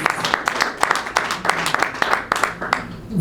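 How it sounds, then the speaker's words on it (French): An audience claps for the Congolese musician, irregular applause with sharp individual claps rising and falling, while a voice talks over it throughout. "Applaudissons l'artiste."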